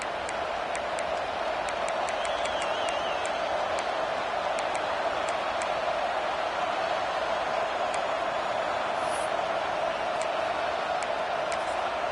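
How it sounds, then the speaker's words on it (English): A college football video game stadium crowd roars continuously at South Carolina, a dense, steady wash of cheering noise with faint scattered clicks, filling the whole stretch without pause and no talking over it. "Listen to this crowd just shaking the girders of this place trying to help their defense."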